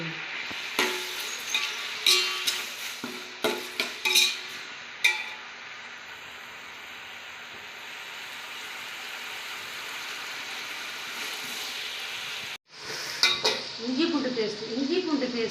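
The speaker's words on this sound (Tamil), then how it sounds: "தக்காளி கொஞ்சம் சீக்கிரம் வதங்குறதுக்காக கொஞ்சம் கல் உப்பு போட்டுக்கோங்க" Tomatoes with rock salt sautéing in a pan for chicken biryani: loud spatula scrapes and clanks against metal over a steady sizzle, then a continuous frying hiss, with a brief voice near the end.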